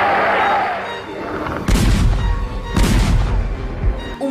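A pair of gunshots booms loudly in an archival recording, as two heavy blasts about a second apart over a noisy crowd-like background.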